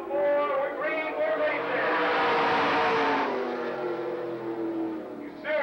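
Super late model race cars roar together at Lake Geneva Raceway in Wisconsin, a loud, sustained pack of engines rising in pitch as they accelerate down the front stretch.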